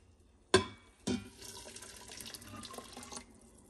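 Boiling water splashes and streams steadily into a vessel after two sharp clanks, a continuous close pour lasting a few seconds.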